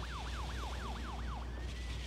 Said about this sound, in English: Oh, no. It's ambulance.